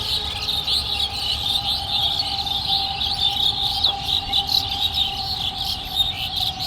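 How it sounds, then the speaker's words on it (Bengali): Many birds call at a lake in Uttara, Dhaka, forming a dense, continuous chorus of high chirps and trills, with a faint steady tone underneath. "অনেক পাখির কোলাহল রয়েছে এই জায়গাটিতে"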